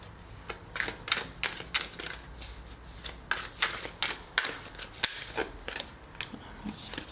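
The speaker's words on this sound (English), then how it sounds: "I'm going to pull some tarot cards for you to get some further information" A deck of tarot cards is shuffled and pulled in quick, crisp flicks and snaps, close and clear, forming an irregular patter of sharp card slaps with no speech.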